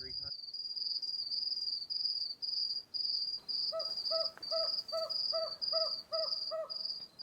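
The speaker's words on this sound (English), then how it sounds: "Hooting away at the top of a forested hill is a Madagascar scops owl." Madagascar scops owl hooting from a forested hilltop in a Malagasy nature reserve; a series of short, evenly spaced hoots joins partway through, repeating in a steady rhythm over a constant high-pitched insect or cricket chorus.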